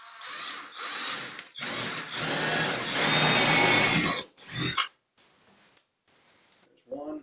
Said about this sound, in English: Now, back to drilling.